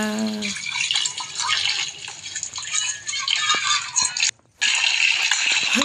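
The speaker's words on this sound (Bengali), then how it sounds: "বাসন ধোয়া হয়ে গেল" Dishes are washed under a running tap, with a steady hiss of flowing water, splashing and clatter, broken by a brief silence before the water resumes.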